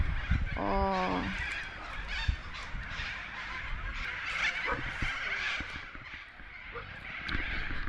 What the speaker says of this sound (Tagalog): marinig mo yung mga ibon. Ang lakas, kasi ano na, siguro bahay nila yung mga puno dito, kaya ang ingay nila